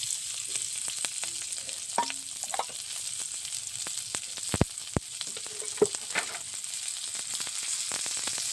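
Raw onion, green chili and crushed garlic frying in mustard oil, a steady soft sizzle with scattered clicks and scrapes of stirring, moderately close with no talk.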